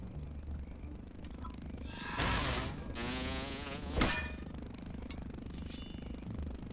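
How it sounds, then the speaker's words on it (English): Mosquitoes in the game Grounded drone with a loud, rising buzz over a few seconds, then fade back to a softer whine amid background game noise. "I'm getting fed up with the mosquito noises."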